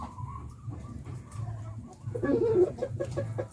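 Chickens clucking softly nearby, a few short calls rising over low background rumble, with a brief louder burst toward the end.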